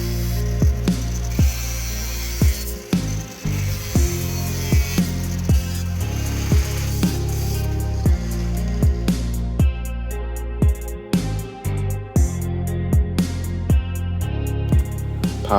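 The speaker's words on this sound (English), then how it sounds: "I couldn't get these spokes out, so I just had to take the whiz wheel to them." A whiz wheel cuts through wheel spokes during a wheel and tire repair, grinding steadily and loudly, interrupted by repeated sharp clanks and ticks as each spoke gives way.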